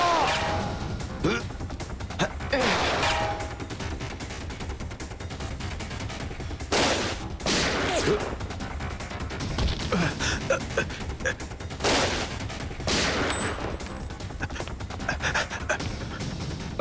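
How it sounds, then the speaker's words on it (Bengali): Gunfire in a TV crime drama, heard as several sharp shots scattered among tense music and mixed background sound, with people talking and shouting throughout. "সিআইডি অফিসারকে গুলি করে দিলি?"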